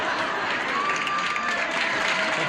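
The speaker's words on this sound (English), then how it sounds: "Why are they cheering?" Television studio audience cheering and clapping, a dense, steady wash of applause that stays loud and continuous throughout, with no speech over it.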